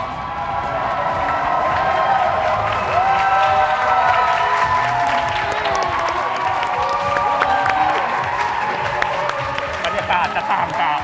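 A large crowd claps and cheers continuously at the opening of the Apple store at Central World, dense and loud with shouts and whoops rising over the steady applause.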